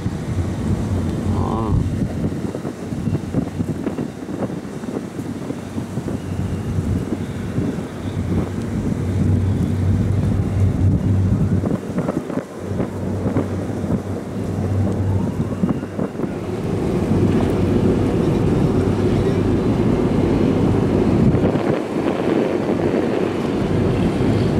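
A Superdong high-speed passenger ferry running at sea off the Rach Gia ferry terminal, with strong wind buffeting the microphone over a continuous rush of waves and a low engine drone, loud and unbroken with no speech.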